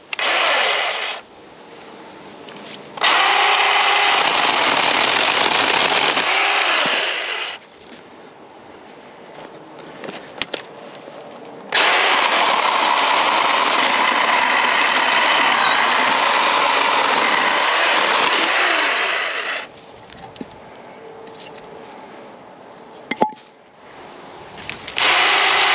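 A Black & Decker cordless electric chainsaw limbs branches too thick for loppers, its motor whining loud and close in two long cutting runs separated by quiet gaps.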